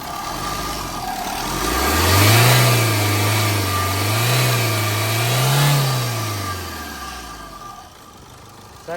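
A 2010 Tata Vista Terra with the Quadrajet diesel engine revs up from idle to about 2000 RPM, climbing, holding with a couple of surges, then dropping back, loud and close with no talk over it.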